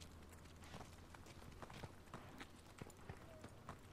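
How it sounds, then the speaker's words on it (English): Running footsteps in the video game Call of Duty: Vanguard beta, a quick, fairly regular series of soft thuds played back quietly over faint background noise. "Footsteps in this game are not very loud."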